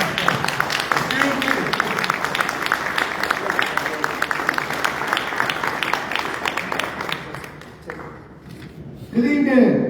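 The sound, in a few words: audience applause at a town hall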